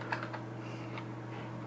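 Computer keyboard typing while searching for an Apple logo, a few quick soft key clicks near the start and around the middle over a steady low hum, fairly faint.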